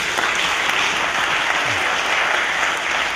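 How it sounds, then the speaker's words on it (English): Steady applause from an audience at a talk about a war hero, dense and continuous clapping filling the whole stretch without a break. "So would you give them all a hand of applause?"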